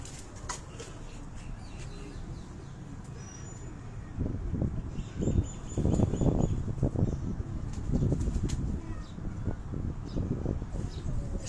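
A Sialkoti pigeon held in the hands gives bursts of wing flapping and scuffling, close and fairly soft over steady background noise, with the flurries growing busier partway through.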